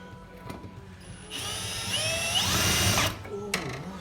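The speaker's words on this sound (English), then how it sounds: "Oh, drill bit snapped." A power drill whines steadily for a couple of seconds while boring into metal during fuel-system work on a Commodore with a turbo Barra engine swap, then stops abruptly as the drill bit snaps, followed by a short rattle.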